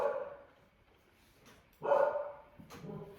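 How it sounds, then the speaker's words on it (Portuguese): A dog barks indoors in two separate bursts, the barks muffled and moderately distant with quiet gaps between them. "E o cachorro vai latindo e nós vamos dando aula"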